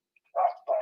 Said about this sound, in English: those dogs are barking at my family